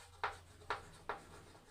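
Writing out a physics equation, heard as three short, evenly spaced scratchy pen or chalk strokes, close and fairly faint against quiet room noise.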